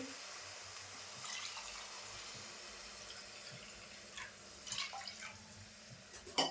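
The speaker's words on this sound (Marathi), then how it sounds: "मी आता ह्या 3 वाट्या पाणी ओतून घेते" Three cups of water are poured into a pot for tomato rice. The water splashes softly and quietly, with a few brighter drips and splashes near the end.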